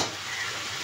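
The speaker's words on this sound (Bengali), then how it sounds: "এখন এই কচুটাকে ভালো করে কষিয়ে নেব।" Taro being stirred and fried in plenty of oil and spices in a pan, a soft continuous sizzle with light scraping, brief and fairly quiet.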